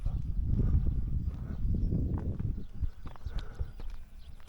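Rustling and soft thuds of horses moving nearby, with muffled hoof sounds and shuffling across a low, busy background.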